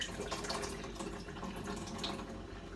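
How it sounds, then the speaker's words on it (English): Water drains off rinsed raw almonds in a steady, close rushing trickle with small splashes, continuous and alone without any talk. "Drain off the water."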